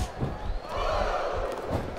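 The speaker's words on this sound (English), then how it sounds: "Look at him feeding off the energy from this capacity crowd." Capacity arena crowd in the wrestling video game SmackDown vs Raw 2007 roars and cheers steadily throughout, a dense loud wash with a swell in the middle, under a faint commentary voice.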